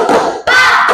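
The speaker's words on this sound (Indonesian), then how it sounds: "Tepuk tangan." Hand clapping in a classroom clapping game, two quick bursts of claps filling the clip, close and loud, with a room full of students clapping together.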